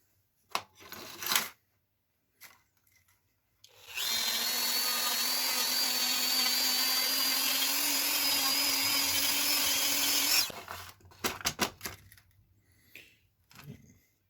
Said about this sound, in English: now I'm going to hit it with the wire brush on the little Dremel tool and polish it up